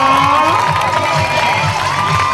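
A crowd cheers and applauds loudly and steadily for a child performer at a khantoke dinner show, with children's voices mixed into the dense, continuous roar.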